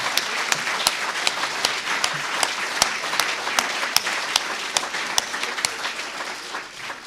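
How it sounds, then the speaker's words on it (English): Another round of applause at the MHA Oscar Awards 2023 ceremony, a room of people clapping steadily with distinct individual claps standing out, fairly close and fading slightly at the end, with no talking. "so perhaps another round of applause."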